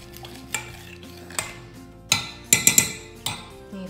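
A spoon stirs fragrance oil into melted melt-and-pour soap base for a pedicure bar, giving several sharp clinks against the container, with a quick cluster of three taps near the end and faint scraping between.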